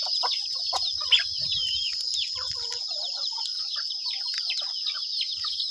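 Chickens clucking and chirping around a farmyard, a busy scatter of short calls near and far over a constant high insect drone, with one sharper squawk early on.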